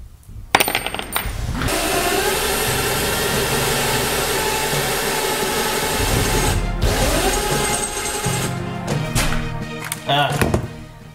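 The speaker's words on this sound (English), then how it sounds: "Now we're gonna go ahead and mark and drill the holes for the bolts." A power drill grinds steadily for several seconds as it bores bolt holes through hard lawnmower blades, a continuous close whine with a few brief pauses and clatters.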